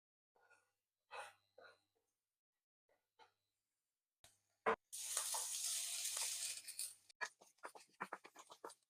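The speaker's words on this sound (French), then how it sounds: "je vais verser l'équivalent de 2 à 3 cuillères d'huile d'olive et je vais venir faire revenir les oignons" Sliced onions dropped into hot olive oil in a pan, a bright hiss of sizzling that lasts a few seconds, between quiet handling clicks and clatter.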